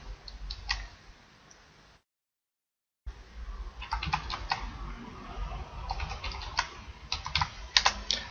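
Close, quick keystrokes on a computer keyboard while a database form is filled in, clustered in short bursts with brief pauses and a gap of silence in the middle, with no talking.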